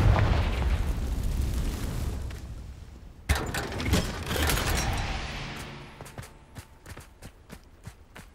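A Confringo fire spell blast in Hogwarts Legacy: a deep booming explosion with a rumbling tail, followed by a second burst and a run of sharp crackling pops fading out.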